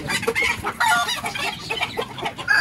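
An injured Aseel hen clucks and squawks loudly and close, in quick repeated bursts with short gaps, alone without talk.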